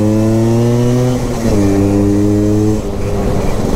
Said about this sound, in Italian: si sente che è un motore abbastanza turistico, ma che comunque non va piano